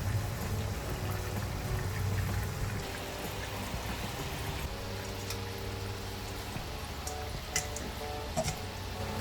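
Donut dough, shaped into rings, frying in hot palm oil in a pan, giving a steady close sizzling and bubbling hiss that continues throughout with small crackles and pops.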